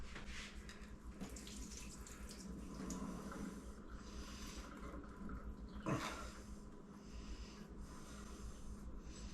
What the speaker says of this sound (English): it does have water on it, so I'm going to pour that off.